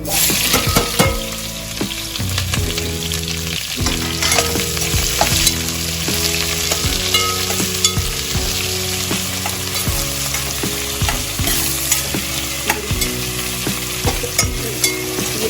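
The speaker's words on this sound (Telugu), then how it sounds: "ఇది సన్నగా తీరేసుకోండి ఉల్లిపాయలు. ఇలా వేయించుకోండి." Thinly sliced onions fry loudly in hot oil for a coconut milk chicken biryani, a dense continuous sizzle with occasional stirring scrapes throughout.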